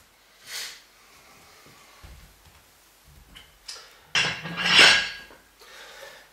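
Metal weight plates clink and clatter as five kilograms are added to a training machine, a few sharp metallic knocks with a louder cluster of clanks near the end.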